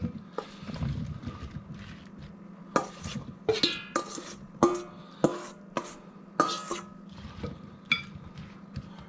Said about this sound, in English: I'm going to get my apple mixture in there